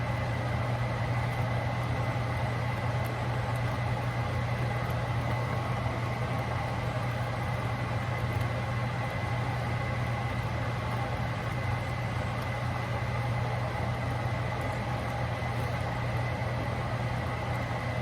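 A kitchen fan runs with a steady, droning mechanical hum throughout, a constant motor-like whir with a low tonal buzz and no voices.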